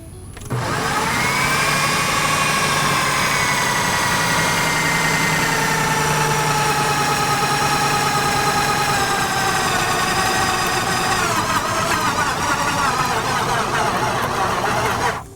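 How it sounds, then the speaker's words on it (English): A food processor motor whirs loudly and steadily, its pitch sagging and wavering as it labors under a heavy load of pasta dough, then cuts off at the end. "When you hear your motor starting to get in a bind, turn it off"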